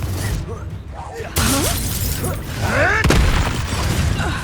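Confringo blasting spell going off in Hogwarts Legacy, a sharp crashing burst with shattering debris mid-way amid combat effects, while voices shout and cry out throughout.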